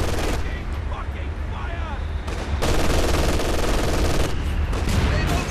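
Rapid machine-gun and rifle volleys rattle through a Company of Heroes 2 Soviet winter mission, loud and sustained with sharp bursts and a heavier stretch of fire midway, while soldiers shout over the din.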